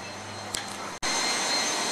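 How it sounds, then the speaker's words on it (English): A passenger jet's engine roars steadily at an airport, a loud broadband rush that cuts out briefly mid-clip before resuming, with no talking. "That's the plane."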